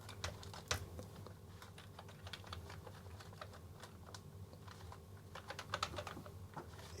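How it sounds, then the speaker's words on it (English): An old, dirty, yellowed Commodore 128D keyboard under restoration gets its keys pressed in a close, continuous patter of clicks and clacks over a low steady hum. "Let's test the Commodore key. F keys work, and the numpad."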